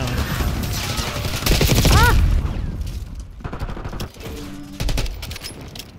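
Rifle gunfire rings out in the Black Ops 6 video game, several rapid bursts of sharp shots with booming reports and mechanical clatter, loud and close, with brief quieter gaps between volleys.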